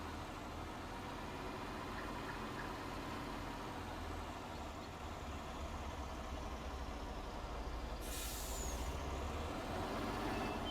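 A truck in Farming Simulator 19 idles and rumbles steadily with a low engine drone, with a short burst of air-brake hiss near the end and no talking.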